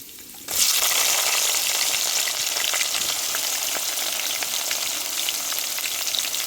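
After a brief quiet moment, onions and curry leaves hit hot oil in a pan for a fish curry, bursting into a loud, dense, steady sizzle that continues without talk.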